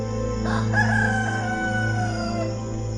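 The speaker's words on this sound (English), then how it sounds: "And immediately, the rooster crowed the second time." A rooster crows once, loud and close, in a long drawn-out call that rises and then trails off, with a steady low hum beneath it and no speech.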